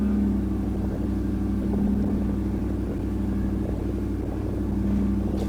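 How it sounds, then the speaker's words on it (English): A Chevy L83 V8 swapped into a Land Rover Defender 90 idles with a steady, continuous low engine rumble that holds fairly even, with revs settling down rather than climbing. "You can hear the revs coming down now."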